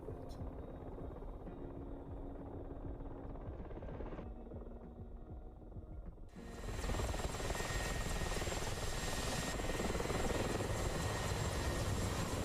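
Mi-24 helicopter in a video game flight course, a steady throbbing rotor and engine drone that grows louder and fuller partway through, continuous with no talk.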